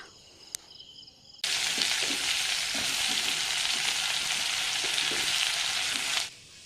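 Brinjal pieces and onions fry in oil with a steady loud sizzle that starts abruptly and runs for several seconds, broken by faint scraping stirs, then cuts off near the end.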